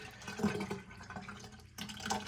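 Water thick with tomato seed gunk is poured out of a container, making a steady splashing, trickling flow that swells and eases and then surges again near the end, with no voices.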